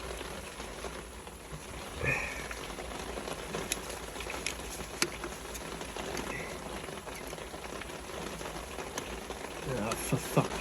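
Steady rain patters outdoors, a dense even hiss with scattered drips through the whole stretch, while someone works nearby on an old Alvis Stalwart military vehicle.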